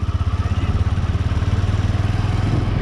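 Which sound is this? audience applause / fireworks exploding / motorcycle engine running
motorcycle engine running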